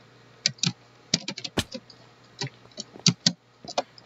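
Computer keyboard typing during a game: irregular bursts of sharp key clicks and clusters of presses, close and clear over a quiet low hum, no talking.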